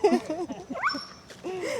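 A puppy in a park setting on Koh Phangan, Thailand, lets out a few quick, high yips and whimpering barks. They come in short bursts and sound fairly close, with a faint background and no speech.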